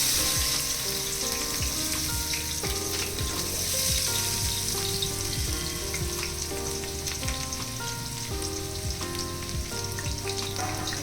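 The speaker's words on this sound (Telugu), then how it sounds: "ఆనియన్స్, పచ్చిమిర్చి ఉన్నాయి కదండి, అవి వేసి దోరగా వేయించాలి." Onions and green chillies fry in hot oil in a kadai for a village-style fish curry, a dense, steady crackling sizzle lasting throughout, close and even, with faint low knocks underneath and no voices.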